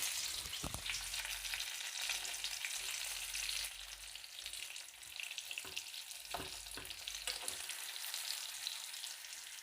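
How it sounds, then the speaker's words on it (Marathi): Stuffed green chillies, a less spicy Maharashtrian bharli mirchi, fry in a pan with a steady, close sizzle and hiss, broken by a few soft clicks and scrapes as they are turned. "दोन मिनटात किती छान अशा एका बाजूने ह्या मिरच्या फ्राय झालेल्या आहेत"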